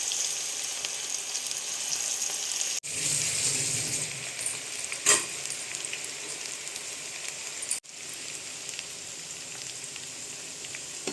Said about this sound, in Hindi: अच्छे से आपका तेल गरम होना चाहिए तभी अच्छे से डीप फ्राई हो पाएंगे।